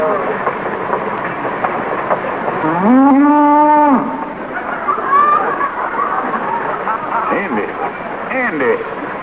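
Cattle being loaded onto a train at a station: one loud, close, drawn-out moo stands out over a busy background of shuffling, clattering and a second fainter lowing call.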